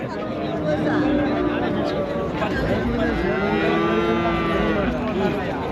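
Cattle moo repeatedly at a packed livestock market in Anthiyur around Pongal, long low calls rising over a constant babble of crowd chatter close around.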